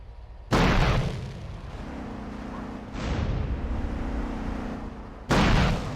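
Rocket launcher blasts in GTA San Andreas: three heavy booming explosions, one at the start, one in the middle and one at the end, each followed by rumbling decay and a faint steady engine-like hum between them.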